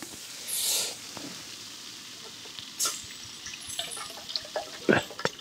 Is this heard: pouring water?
yes